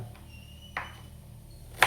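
Two sharp knife chops through ginger on a cutting board, separated by a quiet pause, close and fairly crisp with no talking.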